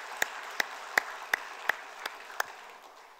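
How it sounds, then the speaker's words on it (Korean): Applause in a church after a choir's performance comes through as about seven sharp, distinct claps at a steady pace, crisp and clear over a quiet room, fading out toward the end. "박수로 축복하겠습니다"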